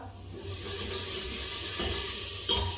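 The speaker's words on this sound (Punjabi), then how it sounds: "ਇਹ ਆਪਾਂ ਲਸਣ ਤੇ ਪਿਆਜ਼ ਤੇਲ ਦਾ ਤੜਕਾ ਲਾ ਰਹੇ ਹਾਂ ਜੀ" Steady hissing sizzle of garlic and onion frying in oil for a dal tempering, close and continuous with a slight flare near the end.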